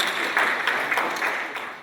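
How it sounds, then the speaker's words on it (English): An audience at an investor forum panel discussion applauds, a steady wash of many hands clapping at moderate volume that slowly fades toward the end, with no voices over it. "So a big clap for Mr. Nayak."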